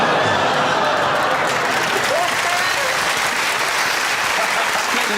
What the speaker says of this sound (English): That's a classic mixture of groan and applause there.